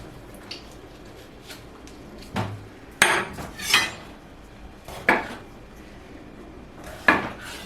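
A knife chopping paella ingredients on a cutting board, with irregular sharp taps and clacks spaced out over several seconds against a quiet background.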